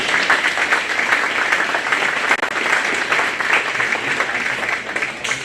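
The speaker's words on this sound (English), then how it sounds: "Let's give them all a big round of applause, please." A crowd applauds steadily and fairly loudly at a county fair senior showmanship contest, continuous clapping with a few scattered cheers throughout.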